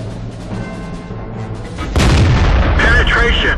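A tank cannon fires in World of Tanks on the El Hallouf map and the round penetrates a T-44. A sudden loud boom cuts through a steady rumbling battle background about halfway through.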